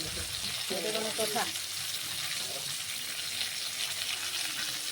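Potatoes frying in a pan with spices and red chili powder for a posto dish, a soft continuous sizzle with stirring scrapes and a brief voice near the start.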